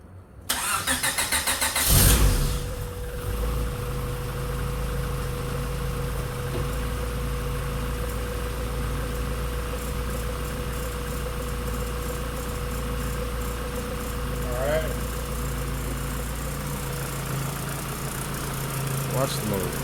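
A Honda Civic EF engine with a rocking motor mount and a squeak idles steadily up close, a low even hum throughout with one brief louder burst near the start.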